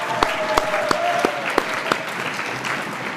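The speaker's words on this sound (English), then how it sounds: "let's give him a big round of applause" Applause at a school orchestra spring concert for a student receiving a music department award: steady audience clapping with several louder close claps standing out in a loose rhythm, continuing evenly to the end.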